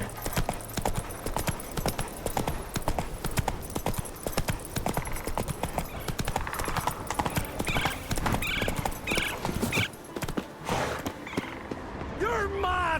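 Horse hooves clip-clop steadily while riding in The Witcher 3: Wild Hunt, a continuous rhythmic trot under game music and voices, with a horse whinny near the end.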